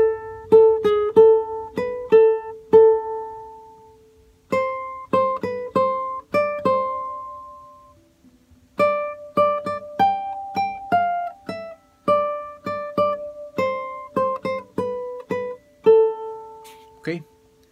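A guitar plays a melodic phrase of plucked single notes in several short bursts with brief pauses between them, clear and close with no talking.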